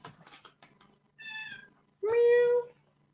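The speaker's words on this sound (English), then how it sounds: "Silly bloody cat." A pet cat named Mimsy meows twice indoors, a shorter call followed by a louder, longer drawn-out meow, close to the microphone with no talking over it.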